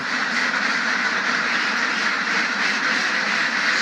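Many ducks on a farm quack together in a dense, continuous chorus, loud and steady with no pauses, forming an unbroken wall of calls.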